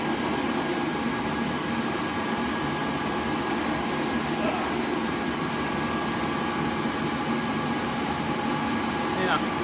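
Homemade flow bench running at wide open throttle, a steady loud rushing roar of air with a constant motor hum, unbroken for the whole stretch.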